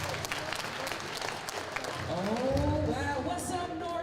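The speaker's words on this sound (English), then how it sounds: "Please give a huge round of applause for Mrs. Crystal Bell." Applause and cheering from a crowd at a Black History Month high school assembly in a large hall, steady clapping throughout with a rising swell of cheers and whoops in the second half, a voice faintly audible underneath.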